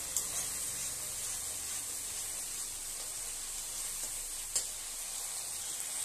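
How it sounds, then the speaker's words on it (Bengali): Spice paste fries in a pan for a vegetarian potato and cauliflower curry, a quiet, even hiss of sizzling oil throughout, with a faint scrape near the end. "ভালো করে মশলাটাকে আমাকে কষতে হবে।"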